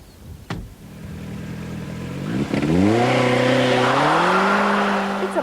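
A Lotus Esprit Turbo sports car pulls away hard, its engine note climbing steadily in pitch and growing louder as it accelerates close by, with no voices over it.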